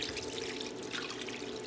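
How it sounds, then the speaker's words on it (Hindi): Water pours steadily into a pot of lentils being readied for boiling, a continuous soft trickling stream heard close and alone. "यहाँ से हम पानी ऐड करेंगे अभी, क्योंकि ये अभी हम उबालेंगे"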